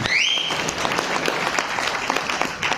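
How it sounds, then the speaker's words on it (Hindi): Audience at a Hindi-language gathering bursts into loud, dense, steady applause, opening with a brief rising whistle, the clapping sustained evenly throughout. "एक बार जोरदार तालियां आप लोगों के लिए।"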